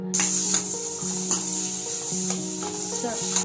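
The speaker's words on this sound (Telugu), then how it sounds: "తర్వాత 2 టేబుల్ స్పూన్ల క్యారెట్ తరుగును వేసి ఫ్రై చేసుకుందాం." Chopped onion and grated carrot frying in a pan, a steady sizzle with periodic scraping stirs at regular intervals, close and moderately loud, with a faint steady hum behind it.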